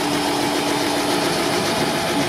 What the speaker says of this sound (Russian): Это двигатель от ГАЗ-53.